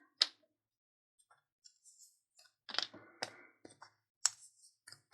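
Paper box flaps folded by hand for a square paper box, giving a few sharp crisp snaps and soft rustles close up, with quiet gaps between the handling sounds.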